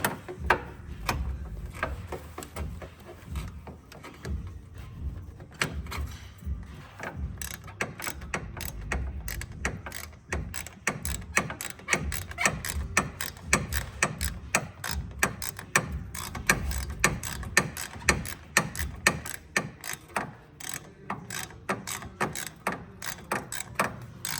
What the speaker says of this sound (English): I'm just gonna grab my tool again so we can tighten it.